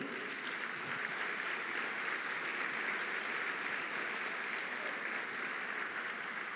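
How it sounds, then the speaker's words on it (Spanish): Steady, sustained applause from a church congregation, even and continuous throughout with no talking. "¿Cuántos le dan un fuerte aplauso al Señor?"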